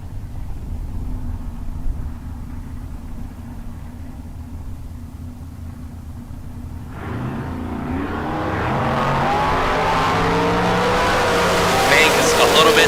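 A 1967 Chevrolet Nova bracket-racing drag car at a Southwest Showdown event, its engine rumbling low before a sudden surge as it launches and revs hard down the strip, growing louder and rougher toward the end.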